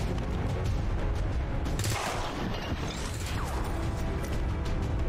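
A single soldier's shot in the turn-based tactics game XCOM 2: War of the Chosen lands as one sharp, loud crack with a crashing impact in the middle of a steady, rumbling mechanical background, with no talk.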